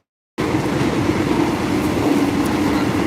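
A passenger train travelling to Bangkok, Thailand rumbles along loudly and steadily, a continuous close roar of wheels and carriage noise starting abruptly after a brief silence.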